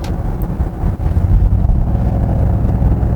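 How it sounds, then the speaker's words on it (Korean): A deep, steady engine growl from a Genesis GV80 facelift in sport mode rumbles loudly and continuously nearby, holding a low throaty drone throughout. "스포츠 모드로 해두고 엑셀을 밟으면 요 그르렁거리는 감성이 훨씬 증폭이 됩니다"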